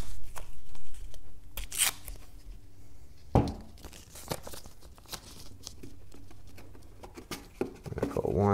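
Adhesive tape is torn from the roll and wound around a homemade spectroscope tube, making crinkly tearing and rustling bursts between stretches of someone talking close by.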